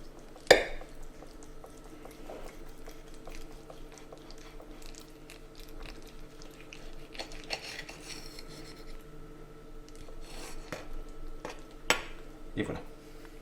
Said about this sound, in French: On va quand même couper une part pour que vous puissiez voir l'intérieur.